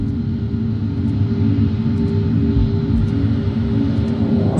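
Inside the cabin of Air Transat Flight 236, an airliner cruising over the ocean, a loud, continuous low engine rumble and airflow drone holds steady throughout with no talk.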